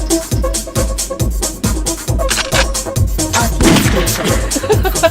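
Rapid, evenly spaced booming shots from a video game, a steady heavy rhythm of loud bangs continuing throughout with a denser burst near the end.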